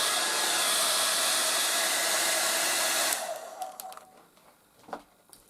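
A Revlon 1800W dual-speed hair dryer on its cool setting blows with a loud, steady whoosh for about three seconds, then switches off, leaving faint rustling and small knocks.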